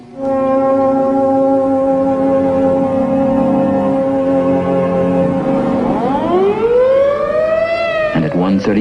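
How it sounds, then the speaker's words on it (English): A civil defense siren wails loud and sustained, a steady droning tone that holds for several seconds before rising sharply in pitch and then cutting off. "the siren sounds once more"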